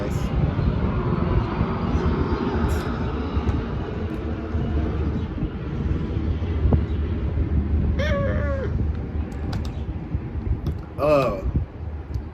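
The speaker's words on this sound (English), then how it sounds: "I'm gonna wait until that plane pass." Airplane passing overhead outdoors, a broad rumbling roar that swells and slowly fades across the clip, with brief meow-like squeaks and short bits of background noise.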